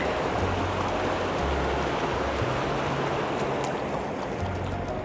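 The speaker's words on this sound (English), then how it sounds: "beautiful creek." Boulder Creek in Wyoming flows past a grassy campsite, a steady, even rush of water filling the whole stretch with a constant hiss and no voices.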